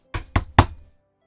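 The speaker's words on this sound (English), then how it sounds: "Knock on glass." Three firm knocks rap on a glass window, close and loud, evenly spaced with short resonant tails, then silence.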